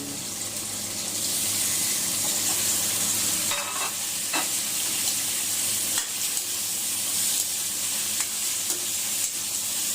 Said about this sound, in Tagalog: So ato nang ilunod ang atong chicken.